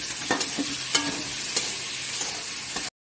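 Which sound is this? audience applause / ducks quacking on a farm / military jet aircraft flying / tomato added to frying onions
tomato added to frying onions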